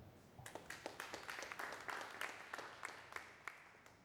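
A small audience at a Geneva cryptocurrency conference claps faintly, with sparse, distinct individual hand claps scattered irregularly throughout rather than a dense ovation.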